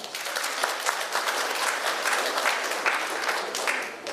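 An audience at a beauty festival gives sustained applause, a dense, even wash of many hands clapping for several seconds with sharper individual claps poking through, loud and continuous with no talk.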